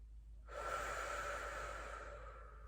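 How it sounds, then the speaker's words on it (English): A big, deep inhale taken during a mobility stretch, one long airy breath that starts abruptly, stays broad and steady for about two seconds and then fades, close to the microphone with no talking. "So nice big inhale."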